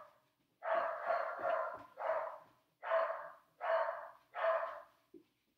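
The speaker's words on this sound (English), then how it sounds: "Hold on, my dog's going crazy." A dog barks in a quick run of about six loud, close barks with short gaps between them, ending in a brief softer yelp.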